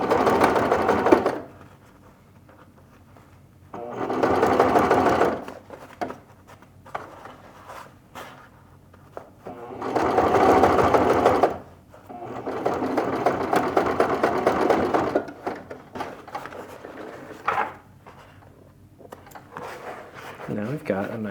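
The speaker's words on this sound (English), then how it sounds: "I'm going to stitch it on the outside" A sewing machine runs in several sustained bursts while stitching an eighth-inch seam along a top collar edge, with pauses between runs and a person talking in the gaps.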